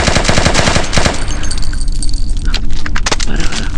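Kalashnikov rifle in a video game: a loud rapid burst of automatic fire opens, then metallic clicks and clatters of reloading follow, close and punchy, with no speech.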